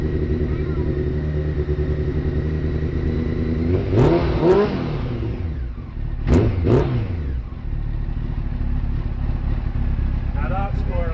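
Honda CBR900RR Fireblade motorcycle engine idling on choke, a steady near mid-pitched run broken by two brief bursts of throttle blips, each rising and falling, with a fainter blip near the end.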